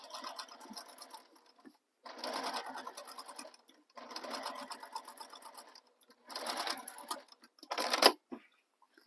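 A sewing machine topstitches beside a zipper on a tote bag, running in four steady whirring bursts of a couple of seconds each with short pauses between, close and clear with no talking.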